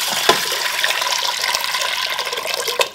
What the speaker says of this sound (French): Dans la cuve du Cookéo, je mets 250 g de lentilles corail. 4 fois plus d'eau, soit 1 litre.